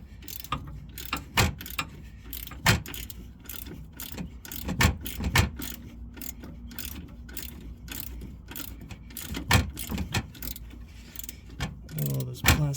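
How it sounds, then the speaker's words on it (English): A wrench ratchets on the steering stabilizer of a Jeep Grand Cherokee WJ, giving close, loud, repeated metallic clicks in irregular bursts with clanks of tools and parts between them and no talking. "I'm actually going to use a wrench here to stabilize it"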